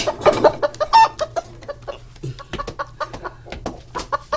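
Chickens clucking and squawking in a busy, irregular series of short calls, close by, with no talking.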